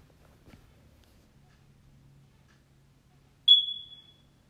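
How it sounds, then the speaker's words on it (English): A single short, high-pitched low-battery chirp from a smoke alarm rings out once in an otherwise quiet room, loud and sharp, then trails off quickly. "sorry if you hear beeping, my fire alarm batteries need replaced."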